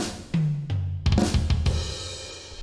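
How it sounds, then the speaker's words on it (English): Drum fill on a kit ending in bass drum kick triplets, a handful of hits at first, then a dense, loud burst of drums and cymbal washing out at the end. "he does some kick triplets here at the end to spice it up a bit further"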